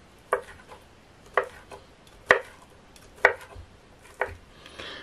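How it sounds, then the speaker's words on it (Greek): A knife slices bacon into rounds on a cutting board. Five firm, evenly spaced chops land about once a second, close and clear, with quiet gaps between. "Κόβουμε και το μπέικον σε ροδέλες."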